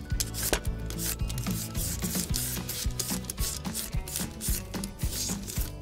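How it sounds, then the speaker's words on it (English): A handheld vegetable peeler scraping across the rind of a cantaloupe, a close series of regular rasping strokes with sharp clicks at the start of each pass and no talk. "Will it peel a cantaloupe?"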